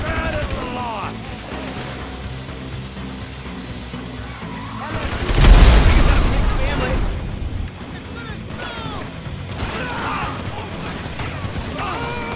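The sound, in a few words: grenade launcher firing in video game Grand Theft Auto V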